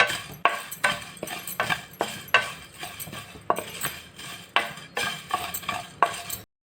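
A spoon scrapes and stirs sardines frying in a pan. About a dozen regular strokes sound close and fairly loud, with a faint sizzle beneath and no speech.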